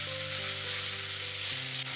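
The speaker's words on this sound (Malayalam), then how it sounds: "മീൻ ഇതിലേക്ക് ഇട്ട് കൊടുക്കാം. 1 മിനിറ്റ് ഇതുപോലെ ഒന്ന് ഇളക്കി കൊടുക്കാം." Mackerel pieces fry in a pan with a steady, loud sizzle, while a stirring utensil makes faint scrapes for about two seconds and no one speaks.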